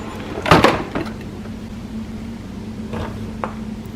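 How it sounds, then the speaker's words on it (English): Ink access door on an HP Envy 6055 printer lifted open by its right-side handle: a close plastic clunk and rattle near the start, a brief knock after, then a steady low motor hum and a couple of faint clicks. "let us open the ink access door by lifting the ink access door using the handle on the right of the printer"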